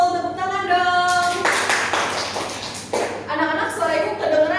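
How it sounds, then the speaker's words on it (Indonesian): A third-grade classroom of children claps hands in a short, brisk burst of scattered clapping, with children's voices sounding before and after it. "Tepuk tangan dong."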